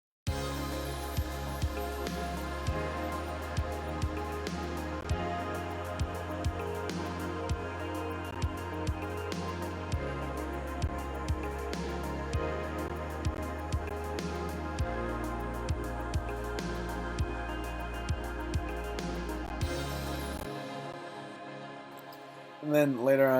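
Full electronic music track mixed down with bus processing, saturation and compression, steady dense beat with sustained bass and bright layered synths for about twenty seconds, then the mix cuts to near silence before a brief final burst.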